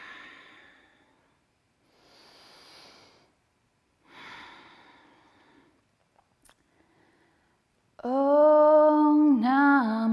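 Slow, soft breaths in and out during a gentle yin yoga session, three or four long airy exhales spaced apart, close and quiet, followed by a melodic sung chant.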